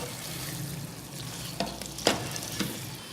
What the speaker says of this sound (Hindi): हरी मिर्चें ऐड कर दें और हरा धनिया ऐड कर दें। एक दफ़ा मिक्स कर दें।